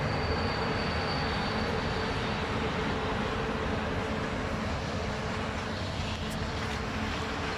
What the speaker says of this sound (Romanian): S-aude și un tren pentru că noi suntem într-o gară.